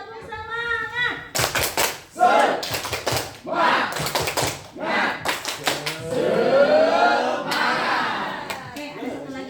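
A roomful of adults performs the 'tepuk semangat' rhythmic clapping chant, with sharp bursts of claps in quick patterned groups alternating with shouted voices, close and loud, and talk between the bursts.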